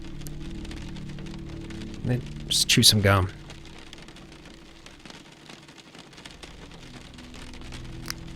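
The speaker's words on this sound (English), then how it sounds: "shake the rain off" Steady rain falling in Cataclysm: Dark Days Ahead, a soft even patter running the whole time beneath a voice, with a short louder burst of rustling in the middle.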